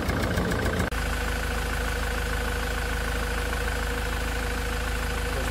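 Land Rover Defender with a rebuilt Puma 2.4 TDCi diesel engine idling steadily after a first start, a loud, even, continuous rumble following a brief louder burst at the start.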